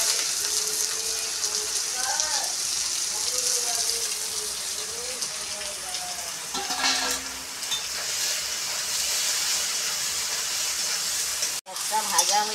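Onion frying in oil with garam masala and bay leaf, a constant close sizzle with stirring clatter, someone talking over it in places, and a brief break near the end.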